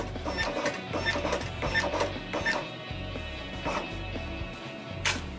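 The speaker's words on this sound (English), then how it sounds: "I'm going to go ahead and send that to the printer" A Zebra RXi4 label printer prints and encodes RFID tags: steady mechanical whirring with repeated rhythmic clicks and feed pulses, close and continuous, ending in a sharp clack.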